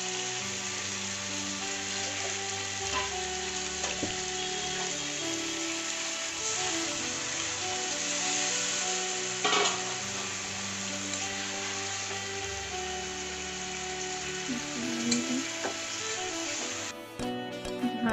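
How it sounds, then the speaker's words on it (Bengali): Mutton curry spice paste frying in a pan, giving a steady, dense sizzle that stays loud and continuous throughout, with occasional faint clinks and no talking. "ভালো করে নিয়ে কষিয়ে নেব।"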